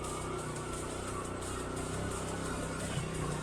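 Motorcycle engine running steadily on a climb up a mountain road toward a hilltop viewpoint, recently serviced, with a continuous close drone and wind noise throughout.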